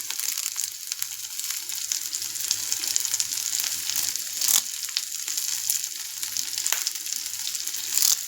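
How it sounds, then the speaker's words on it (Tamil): Cumin seeds and curry leaves frying in hot oil for a fish curry, a steady close sizzle with soft crackles and occasional stirring scrapes, no voices. "இப்போது இதில் முக்கியமாக கருவேப்பிலை போட்டுக்கலாம்."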